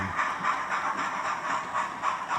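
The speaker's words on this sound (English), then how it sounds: "The trains are going around." Hornby model trains circle the track with a steady whirring, rattling hum that pulses in a regular rhythm, close and moderately loud, with no talking.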